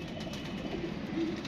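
A sickly female pigeon gives a couple of soft low coos over a steady background hum, close by and brief.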